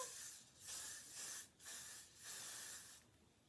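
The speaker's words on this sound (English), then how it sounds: "So I'm going to spray that all over my hair." Hair product sprayed over hair from an aerosol can, several hissing bursts of about half a second to a second each separated by short gaps, close and fairly quiet.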